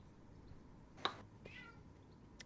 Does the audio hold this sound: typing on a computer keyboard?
no